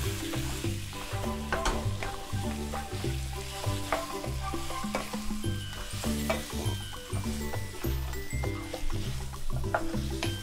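Chicken broccoli curry being stirred in a pan, with a dense continuous sizzle and repeated scraping strokes of a utensil in a rough rhythm, close and steady throughout, with no talking.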